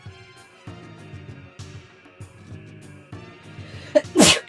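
A single loud, sharp sneeze bursts out near the end, following a few seconds of quieter background sound.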